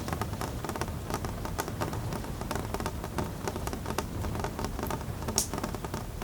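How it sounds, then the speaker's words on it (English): Steady rain patters densely on surfaces on a rainy evening, an even, close hiss with scattered sharper drops and no voices. "Rain continues."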